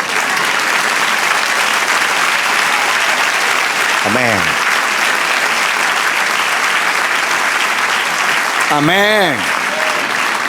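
A church congregation gives loud, sustained applause for the Lord during a sermon, continuous heavy clapping from a full room, with voices calling out twice above the clapping.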